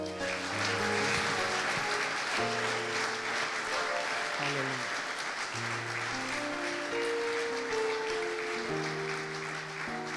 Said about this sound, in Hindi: Praise the Lord. जोरदार तालियां।